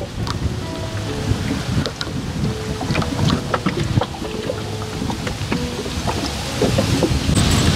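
Rain falls in a storm over floodwater, a loud continuous patter with scattered sharp drops and low rumbling underneath, steady throughout with no speech.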